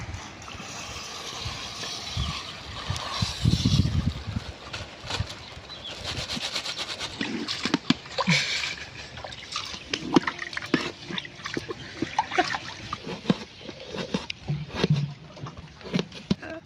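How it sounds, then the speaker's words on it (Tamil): Basmati rice being swished and rinsed by hand in water outdoors in a forest camp kitchen, irregular splashing, sloshing and dripping bursts close by, fairly loud and without talk. "பாஸ்மதி அரிசியை நல்லா கழுவியாச்சு."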